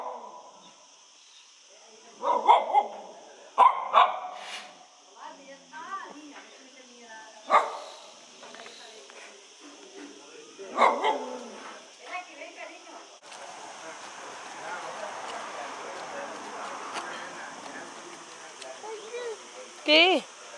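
A household dog barks in short separate bursts in a kitchen at breakfast, several loud yaps spread through the scene, while adults talk over them and comfort a startled child.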